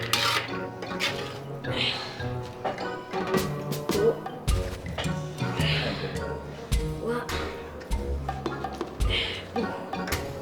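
A spoon stirs food in a cooking pot with repeated scraping and metallic clinks in an irregular rhythm, close by. Voices talk over the kitchen clatter.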